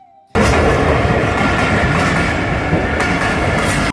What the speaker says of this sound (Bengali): দেখি ট্রেন আসতেছে